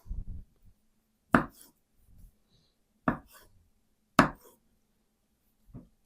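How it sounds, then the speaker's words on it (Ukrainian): A knife halves olives for a Niçoise salad on a cutting board, four or five crisp, isolated chops spaced a second or so apart, close and clear against near silence. "Оливочки 10-12 штук я розріжу навпіл."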